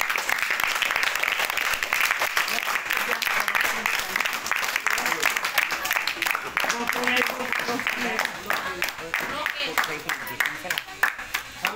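Students clapping at a tuition and computer centre, steady dense applause filling the room for about twelve seconds, with voices talking over it, thinning slightly toward the end.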